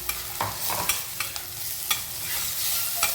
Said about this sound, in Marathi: कांदा आणि टोमॅटो छान परतले ती थोडीशी हळद घालून घ्यायची आणि मिरचीचं बारीक वाटण तेलामध्ये छान परतून घ्यायचं